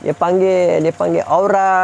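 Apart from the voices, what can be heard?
No distinct noise like a dog, phone or traffic.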